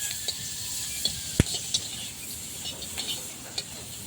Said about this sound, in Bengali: এই দেখো প্রায় মাছগুলো ভাজা হয়ে যাচ্ছে।